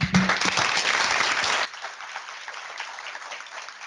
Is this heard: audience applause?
yes